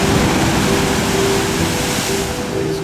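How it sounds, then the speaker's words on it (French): Surf breaking below a coastal hiking trail at Pointe de la Table, St-Philippe, Réunion, above a small beach: a steady, loud broadband roar of crashing waves that never lets up, with no voices. "et le fracas des vagues."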